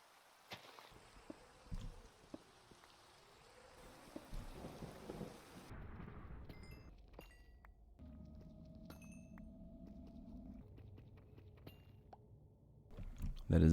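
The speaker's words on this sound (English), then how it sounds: "Oh, and of course it rains." Rain and thunder in a Minecraft hardcore world, with a soft steady rain hiss and scattered thunder rumbles, mixed with game sounds and a sudden loud boom at the end, while a voice talks over parts.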